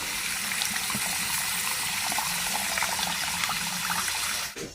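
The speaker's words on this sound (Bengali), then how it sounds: "মালাইকারিটা সুন্দর করে ছেঁকে দিয়ে দেবো।" Liquid from a prawn malai curry is poured and strained in a steady, close, continuous gushing flow that cuts off abruptly at the end.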